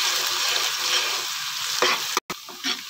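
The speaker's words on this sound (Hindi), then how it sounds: "और अब मैं अदरक लहसुन और हरी मिर्च पे भी इसे भून लूँगा" Ginger, garlic and green chili fry and sizzle steadily in hot oil while being stirred for an aloo palak sabzi, with a brief break and a few scraping stirs near the end.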